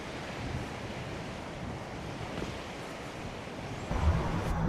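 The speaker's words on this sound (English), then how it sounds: "If you are interested in the beach, it's a very stony beach." Waves wash onto a stony beach by the Humber near the Hessle Foreshore, a continuous soft surf roar mixed with wind noise, swelling slightly louder near the end.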